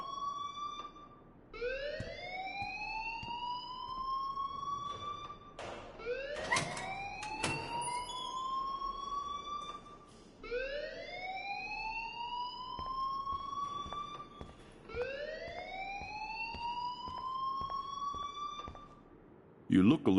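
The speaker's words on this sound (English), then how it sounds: "please turn off that alarm since that's your job." Repeating alarm in the video game Life is Strange: a rising electronic whoop that sweeps up and holds, cycling about every four seconds, loud and steady, with a brief burst of other noise partway through.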